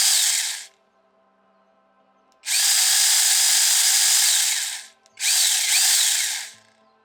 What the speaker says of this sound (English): Once you push the button and the trigger, the blade will start moving